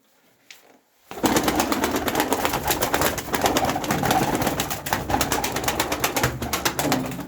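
Pigeons coo in a loft coop in a dense, continuous chorus close by, with soft rustling, beginning after a brief quiet moment.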